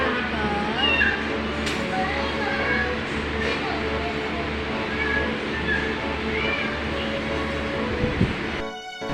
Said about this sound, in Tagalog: Mukhang nagulat ko ata si Meow Meow habang natutulog